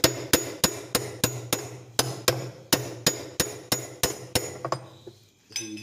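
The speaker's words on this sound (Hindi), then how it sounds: "इसको थोड़ी सी चोट मार के टाइट कर लेंगे।" Steady, evenly spaced hammer blows strike a part of an LG top-load washing machine to tighten it, about fifteen sharp metallic knocks in quick rhythm, close and loud, ending in a short pause and one more tap.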